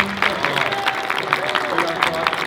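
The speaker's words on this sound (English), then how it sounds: "One more big round of applause for our panelists." Audience applause for the panelists at a WonderCon 2024 convention panel on MENA representation in arts and entertainment, steady clapping from a room crowd with a murmur of voices underneath.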